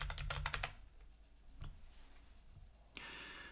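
Typing on a computer keyboard: a quick cluster of clicky keystrokes at the start, then a couple of isolated taps and a brighter final key press, all close and fairly quiet.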